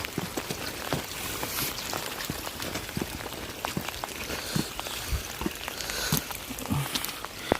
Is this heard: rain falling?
yes